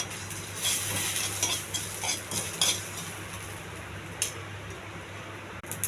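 Chana dal, green chillies, tamarind, mustard seeds and cumin are stirred while dry-roasting in a pan, giving close, repeated scraping and light metallic clinks of a spoon against the pan over a faint steady hum.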